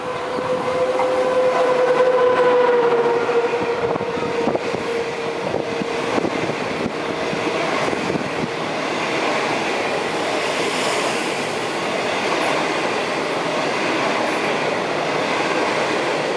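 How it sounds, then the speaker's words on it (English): A non-stop through train rushes steadily through Tai Wai station in Hong Kong, a continuous loud rumble and rattle of wheels that persists throughout, with a faint high tone early on. "A non-stop train is passing through the station."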